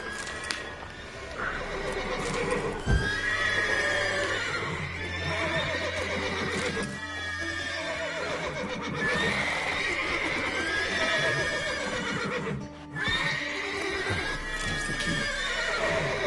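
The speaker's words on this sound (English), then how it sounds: "The horses are funny." Several horses whinny and neigh repeatedly at close range in the video game The Witcher 3, overlapping, with hoof clip-clops and a constant background din throughout.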